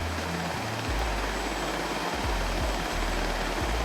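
An F/A-18 Hornet jet in the DCS flight simulator runs at full afterburner on a carrier deck, a loud, continuous broadband roar with a throbbing low rumble, steady and close, with no talking.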